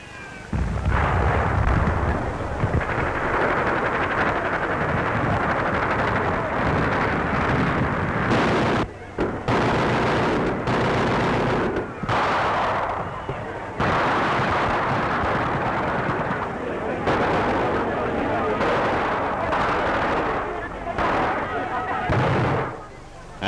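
Gunfire from German snipers on the roof of Notre Dame during the August 1944 battle for the liberation of Paris, heavy continuous bursts and booms with a rough, windy recording texture, loud throughout.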